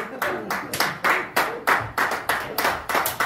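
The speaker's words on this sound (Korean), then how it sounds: "근데 박수는 왜 치는 거야?" A street-performance audience claps in a steady, rhythmic beat at an outdoor night show, loud and close, with faint voices underneath.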